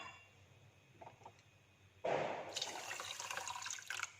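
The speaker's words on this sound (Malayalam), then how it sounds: "അപ്പോൾ 2 കപ്പ് വെള്ളം കൂടി ഒഴിച്ചിട്ടുണ്ട്." Water is poured into a pan for sugar syrup, starting with a few faint drips, then a sudden steady splashing stream close by that continues to the end.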